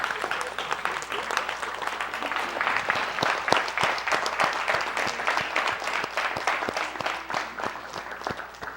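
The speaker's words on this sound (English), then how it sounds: "Give Mr. Yahuwah a hand clap." Audience applause at a livestreamed gathering, a dense steady patter of many hands clapping for several seconds, close and fairly loud with faint voices mixed in.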